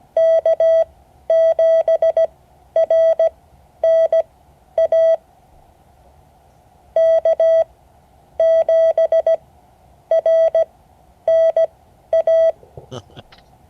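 Morse code call sign K7RNA sent in a ham radio class as steady single-pitch tone bursts, several rhythmic groups of short and long beeps separated by pauses, loud and clear with no talking.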